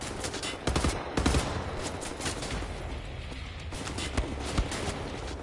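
Shotguns fired two at a time in Wolfenstein: The New Order, with a few heavy blasts standing out over a busy, noisy game backdrop.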